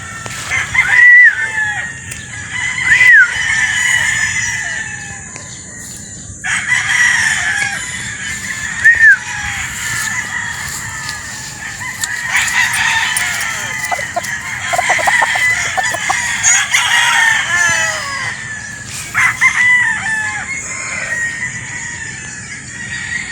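A sweater gamefowl broad stag crows repeatedly at a farm, its loud cock-a-doodle-doo calls mixed with clucking from other chickens, spread across the whole span.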